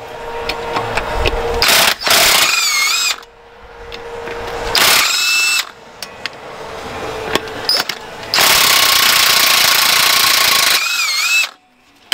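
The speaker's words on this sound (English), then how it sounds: "next we're going to have to remove these three T55 bolts to get the wheel bearing out" Three T55 Torx bolts being loosened from a Corvette wheel bearing on the knuckle, heard as bursts of loud mechanical ratcheting and whirring from a power tool, separated by brief pauses and clanks.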